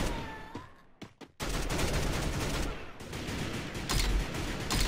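Gunfire in the mobile shooter Garena Breakout, a few isolated sharp shots followed by dense sustained automatic fire and rattling bursts, loud and close with no talking.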